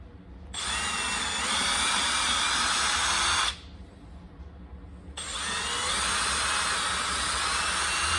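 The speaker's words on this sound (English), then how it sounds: "I'm going to pre-drill the holes." A power drill pre-drilling holes for a seat hinge on a Jacobsen Chief 800 tractor whirs loudly in two bursts of several seconds each, a high steady whine with a short pause between them.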